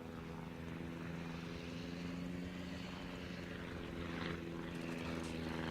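Steady propeller-driven fighter aircraft engines droning continuously in World of Warships, a constant mid-level airplane hum with no pauses.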